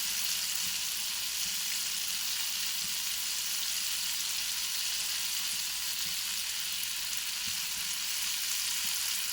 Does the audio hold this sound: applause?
no